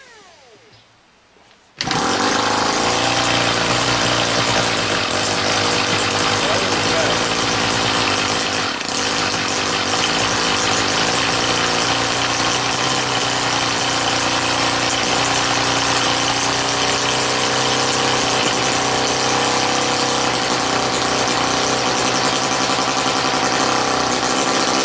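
An OS Wankel 30ci rotary glow engine, brand new and run for the first time, bursts into life after a brief quiet start and holds a loud, steady, high-pitched buzzing run for the rest of the stretch, with no voices over it.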